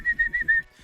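A person imitates a whistle to call a dog, giving three short, clear, evenly spaced whistle notes followed by a brief pause, close and fairly loud.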